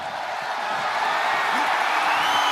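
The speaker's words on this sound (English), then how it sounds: "What a raucous crowd here tonight." Roaring crowd noise fills a wrestling arena in WWE 2K25, a steady loud wash of cheering and whooping that holds without a break.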